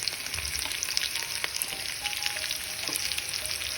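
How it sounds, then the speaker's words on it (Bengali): Potatoes frying over a high flame in hot oil with spices for a Bengali fish chorchori, giving a soft, even crackling sizzle with light spatula taps and no talk. "তখন আমি আলুটাকে প্রথমে দিয়ে দেবো"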